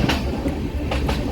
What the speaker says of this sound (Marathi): ट्रेन डिपार्ट झाली आहे आता आडवली स्टेशनवरनं.